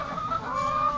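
A flock of farm chickens clucks and murmurs in a winter barnyard, a short burst of close, fairly quiet clucking with no talking.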